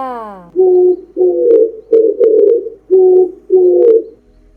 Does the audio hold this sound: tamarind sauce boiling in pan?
no